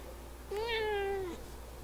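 A cat gives a single clear, drawn-out meow, close and distinct, rising then slowly falling in pitch over a quiet steady background hum.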